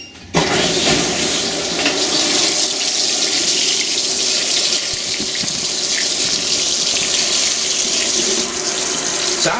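A Fisher & Paykel Smart Drive GW712 washing machine fills with water, a steady, loud rushing stream that starts abruptly and runs unbroken to the end.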